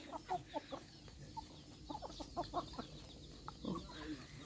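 Chickens on a rice farm clucking and pecking as they are fed uncooked rice, a scattered run of short, soft clucks and calls at close to middle distance over quiet outdoor background.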